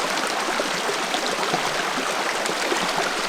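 A small creek flows steadily, its continuous broadband rush and gurgle close by and even throughout, with no talking.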